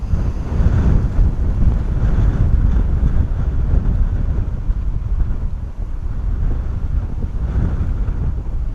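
Strong gusty wind of about 35 knots at Bristol Airport in the evening buffets the microphone in a loud, continuous low roar that swells and dips throughout, with no voices.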